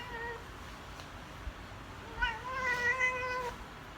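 A domestic cat meows: a short cry first, then a longer, drawn-out complaining meow, close by and moderately loud against a quiet room.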